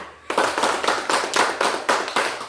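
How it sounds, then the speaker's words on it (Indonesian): Audience applause at an Indonesian teachers' training session, a burst of rhythmic clapping that starts abruptly and continues steadily in repeated pulses, loud and close, with no one talking. "kita tepuk tangan dulu yang meriah"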